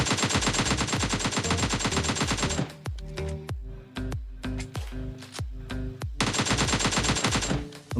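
AK rifle fire in PUBG Mobile Lite, loud rapid automatic bursts: a long stream of shots, then a handful of spaced single cracks, then another sustained burst, with no voices.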